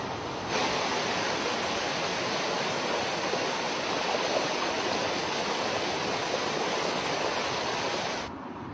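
Rapid river current rushing over diagonally placed boulders at a weir under construction, a steady loud broadband roar of turbulent water running continuously throughout with no voices.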